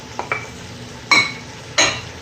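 Mutton being cooked in a pan, with a few sharp clinks and scrapes of a utensil stirring against metal, spaced out over a quiet background with faint sizzling.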